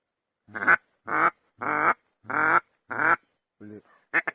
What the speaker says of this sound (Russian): Это утка. Кряква.